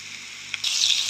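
Bitter gourd fries with plenty of chili and onion and a black cumin tempering, giving a steady soft sizzle that swells abruptly into a louder, brighter crackle partway through, close up with no voices.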